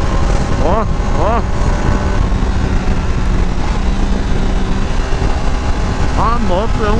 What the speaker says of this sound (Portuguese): olha o desempenho da moto acelerada, velho